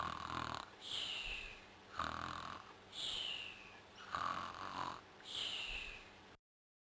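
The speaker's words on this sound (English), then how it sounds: "Brilliant that I have to listen to them snore before I can play the game" Snoring from a game character on a 1995 multimedia demo disc, four drawn-out snores in a steady rhythm, each a rasping inhale with a hissing whistle on the exhale, fairly loud and close with no other sound.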